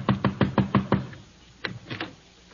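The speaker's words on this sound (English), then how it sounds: "Knock on the door." Door knocking in a vintage old-time radio comedy, a quick run of about six sharp, evenly spaced raps, then a pause and three or four looser knocks close by with no voices.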